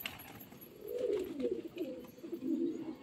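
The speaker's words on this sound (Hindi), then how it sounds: "ये दो बाज कबूतर है" Pigeons coo in soft, rolling, throaty phrases, close by and repeated over about three seconds with brief pauses between calls.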